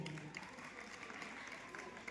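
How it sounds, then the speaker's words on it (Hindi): Audience clapping at an educational gathering in India, a fairly faint, steady patter of many hands from a seated crowd, with some background murmur mixed in. "उसके लिए जोरदार ताली बजाएं।"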